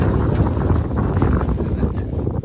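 Wind gusting across the microphone on a paragliding hill at Mercimek Tepesi in Turhal, blowing from a slightly contrary direction during a paragliding competition; a steady, loud broadband rumble fills the whole stretch with no break.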